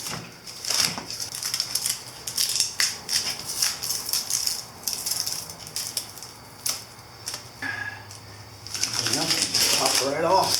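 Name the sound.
masking tape being peeled off a motorcycle whitewall tire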